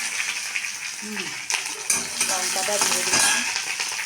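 Chilli pieces sizzle and fry in a pan with black cumin seeds as a utensil stirs and scrapes against the metal, continuous crackling with a few clinks, close and fairly loud.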